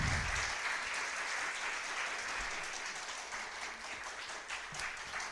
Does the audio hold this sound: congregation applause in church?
yes